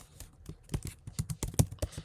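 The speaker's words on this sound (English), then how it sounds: "we can type gmail.com" Typing on a Mac computer keyboard, with rapid, irregular key clicks and taps close up, alone and with no voice.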